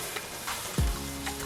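Catfish pieces hitting hot oil in a pan for Nigerian coconut rice, a sudden close sizzle that flares up and then settles into a steady frying hiss.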